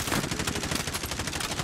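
Rapid gunfire from a video game shooter, a dense string of loud, closely spaced shots rattling steadily through the whole moment with no pauses.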